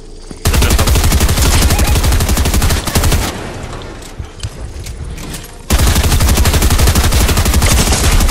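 Rapid SMG fire in Fortnite rattles in loud, dense bursts, with a short pause in the middle before another sustained volley resumes near the end.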